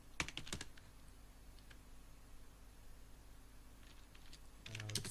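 Computer keyboard typing in short bursts near the start and end, with a quiet steady background hiss between the bursts.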